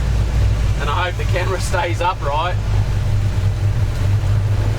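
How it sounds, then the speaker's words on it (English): A steady low engine drone and road rumble fill the cabin of a DIY-built motorhome driving in Australian traffic, continuous throughout while someone talks over it. "apologies for any traffic noise and engine noise"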